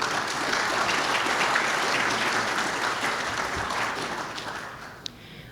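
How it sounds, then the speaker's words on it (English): Audience applause for a site committee at a district community meeting, a steady wash of many hands clapping that holds loud and then tapers off near the end. "How about a big hand for the committee, for the Home Depot Site Committee?"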